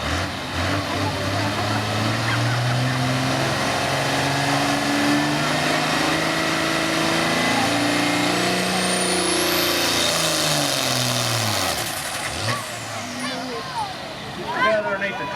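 A Case IH tractor roars under heavy load in a truck and tractor pull, its engine note rising and falling in long sweeps, loud and close with an announcer talking over it.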